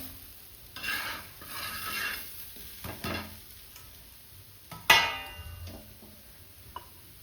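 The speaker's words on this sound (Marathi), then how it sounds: "दोन्ही बाजूनी छान थालीपीठ भाजून घ्यायचं" Jowar thalipeeth roasting on a pan with a soft, low sizzle, plus occasional light scraping and tapping of a utensil and one sharper clink partway through.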